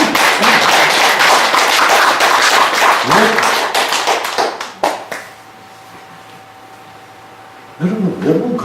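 An audience at a parents' seminar breaks into brief, loud clapping that stops abruptly after about four seconds, followed by near silence with a low hum and a short burst of sound at the end.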